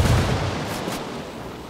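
A frag grenade in Ghost Recon Wildlands goes off with a single loud, close blast that tails off into a rumbling decay.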